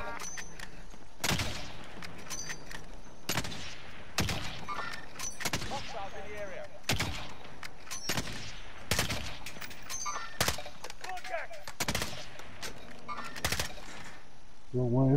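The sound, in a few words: gunfire in the video game Warzone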